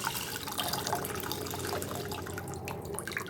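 Soft, continuous trickling of tamarind water being poured into cooked lentils, a quiet splashing wash with faint drips, close by and without talk.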